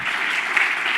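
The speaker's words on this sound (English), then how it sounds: "Can you clap a little louder?" Brief, steady burst of audience applause at a tech startup pitch event, a continuous wash of clapping with no voices.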